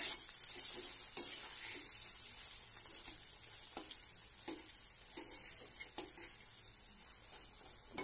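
Pakora frying in hot oil in a wok after being flipped, a steady close sizzle with scattered sharp crackles and small stirring scrapes, no voices.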